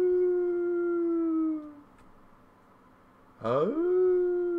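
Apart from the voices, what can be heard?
dog howling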